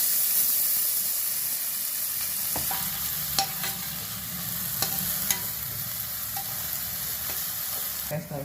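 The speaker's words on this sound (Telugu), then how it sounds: "ఉల్లిపాయలు చూసారా, చిన్నగా తరిగాను," Finely chopped onions fry in sunflower oil with cumin and mustard seeds, making a dense, steady sizzle close by. Occasional spoon taps and scrapes stand out over the crackle, and no one talks.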